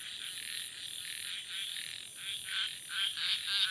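Small frogs croak at night in a rural field during a frog-hunting outing, a dense, continuous chorus of rapid, raspy calls that swells louder toward the end, with no voices.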